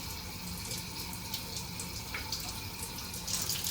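Coriander leaves get washed in water, a faint and steady splashing rush with small drips near the end.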